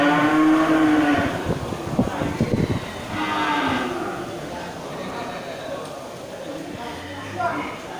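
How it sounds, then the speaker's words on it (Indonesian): Large cattle low at a busy cattle market, one deep moo standing out near the start while a voice talks over a steady crowd murmur. "Sapi-sapi besar."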